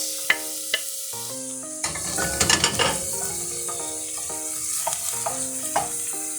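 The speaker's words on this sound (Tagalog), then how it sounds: "Ayan, ihulog natin ang ating sibuyas." Onion drops into hot oil with garlic in a pan for ginisang upo, bursting into a loud sizzle that keeps frying steadily, with utensil stirring and a few clinks over background music.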